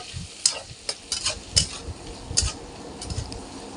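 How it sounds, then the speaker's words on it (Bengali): Onions fry in a pan while being stirred, a low sizzle broken by repeated sharp spatula scrapes and taps at an uneven rhythm, close up with no voices. "দেখুন ভালো করে ভেজে নিচ্ছি পেঁয়াজগুলো"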